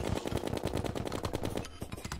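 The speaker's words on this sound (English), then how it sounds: "the Uzi fires bullets further or faster rather" Rapid automatic Uzi gunfire in the video game Terraria, a fast, evenly spaced stream of sharp shots that runs without pause and then thins out near the end.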